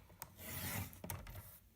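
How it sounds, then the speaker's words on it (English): Cardstock being trimmed down for a card mat, giving a short, quiet scraping rasp with a couple of sharp clicks, close up and alone. "I'll trim it."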